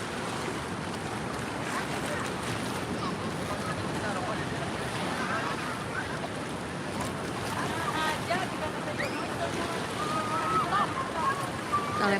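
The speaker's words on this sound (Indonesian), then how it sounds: "Lagi di pantai nih guys." Wind and surf at a beach form a steady, broadband roar that stays loud and even throughout, with gusts buffeting the microphone and faint voices mixed in.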